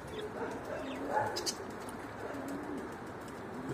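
Pigeon cooing softly as it walks about outdoors at sunrise, a low murmuring coo rising a few times over a steady faint background of chirps and ambient noise, with no talking.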